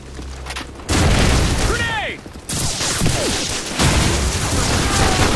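Grenade blasts and gunfire in Call of Duty 4 multiplayer, loud bursts cutting in and out over a steady roar of combat, with players chattering on voice chat throughout.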